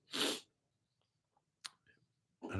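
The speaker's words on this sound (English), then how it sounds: "I don't know what I breathed in, but I sure sneezed it out." A sharp, loud sneeze bursts out at the start, followed by faint breathy sniffs and small sounds, then another strong burst of noise at the very end.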